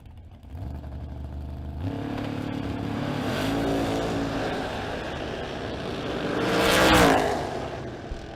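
Two drag race cars, a Nova and a Camaro, launching down the strip, a loud sustained engine roar that builds and swells to a peak as they pass, heard from trackside with no talking.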